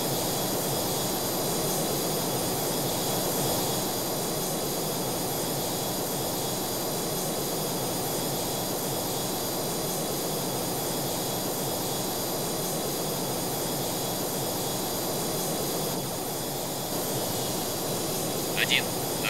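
EA-6B Prowler jets in Strike Fighters 2 roar steadily during takeoff, a loud, sustained engine drone with a high whine that holds almost unchanged throughout.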